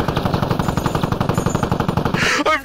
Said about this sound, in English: I can hear those gunshots